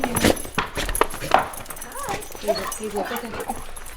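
Dogs greet people arriving home with excited whines and yips close by, mixed with footsteps and voices talking over them.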